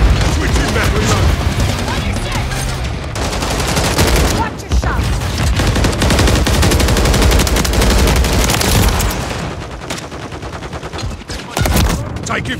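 Dense gunfire from Call of Duty Modern Warfare 3 in a Domination match on the Das Haus map: loud, continuous automatic bursts and booms fill nearly the whole stretch, with brief lulls near the middle and end and voices calling out over the shooting.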